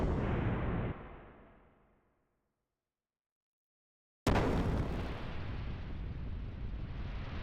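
A ship's gun fires in the video game Xenogears, a loud boom that rumbles and fades over two seconds into silence, then a second sudden blast of explosion that roars on as a sustained, dense rumble.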